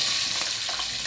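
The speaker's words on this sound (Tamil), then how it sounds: "பூண்டு நல்லா பொன்னிறமாக வதங்கணுங்க" Shallots and garlic frying in oil as they turn golden, giving a steady, close hiss of sizzling with faint stirring scrapes and no voices.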